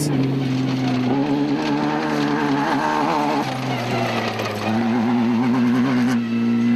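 A desert race vehicle at the 2008 Toyota 1000 Desert Race roars close by, its engine note wavering and climbing through gear changes. The sound is loud and continuous, with no talk.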